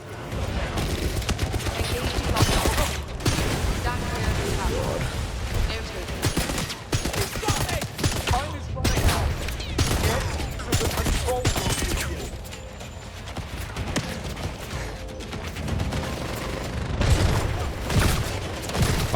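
Shotgun fire in a 007 video game, blasts mixed into a dense, loud stretch of combat noise with booms and heavy low rumble, continuous throughout with voices occasionally over it.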